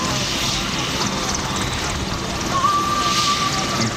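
An EH-101 Merlin helicopter in a combat training exercise, heard as a steady, loud rotor and engine roar throughout, with a faint whine rising near the end.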